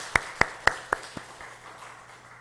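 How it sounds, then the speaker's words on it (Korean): A few sharp, evenly spaced claps from a church congregation, slowing and fading after a handful of strikes, then a quiet room. "하나님 앞에 영광의 박수 올리겠습니다"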